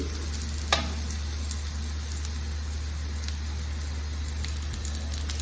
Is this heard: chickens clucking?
no